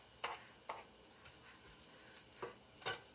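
Garlic sautés lightly in oil in a pan, giving a faint, quiet sizzle broken by a few short stirring scrapes.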